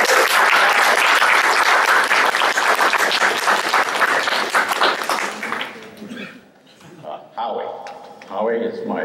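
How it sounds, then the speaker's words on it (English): A bonsai demonstration audience applauds, a dense, loud burst of clapping that fades out after several seconds, followed by a voice talking. "I'd like to give Al an applause for his really terrific donation"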